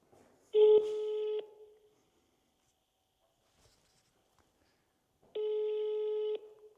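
A phone call rings out through the handset as two long electronic tones, each with a steady stack of harmonics and lasting about a second, separated by a stretch of near silence.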